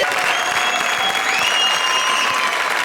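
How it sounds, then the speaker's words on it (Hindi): Studio audience applause on a television comedy show, steady dense clapping that holds at an even, loud level throughout with no voices on top. "ओ दे ताली!"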